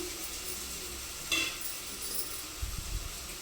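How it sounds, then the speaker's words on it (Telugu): A nearly cooked bitter gourd fry curry sizzles steadily in a pan as it is stirred, with a faint utensil clink partway through and soft scraping toward the end, no talk. "ఇక కర్రీ అయితే ఆల్మోస్ట్ ఉడికింది ఒకసారి కలుపుకుంటా"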